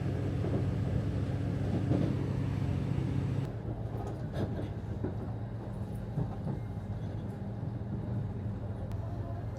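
Steady low rumble of a train carriage in motion arriving at Yogyakarta station in Indonesia, with a constant hum that shifts and quiets partway through, plus faint clatter and scattered knocks.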